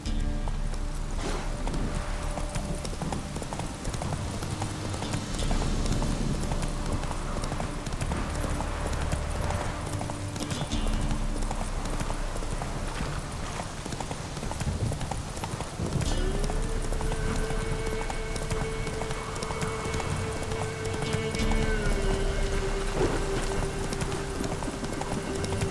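A horse's hooves clatter in steady, rhythmic clip-clop while riding in The Witcher 3: Wild Hunt, continuing for the whole stretch beneath sustained game music, with the occasional snort.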